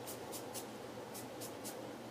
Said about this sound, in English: I'm going to use my setting spray